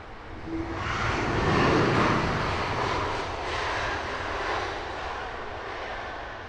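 A United Airlines heavy jet departing runway 27 left at Heathrow roars as a swelling broadband rumble that peaks early, eases, then surges again, sounding fairly distant and steady with no talk.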